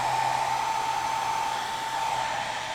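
Close, loud hair dryer drying wet-blended paint layers, a steady unbroken blowing roar with a thin tonal whine running the whole time.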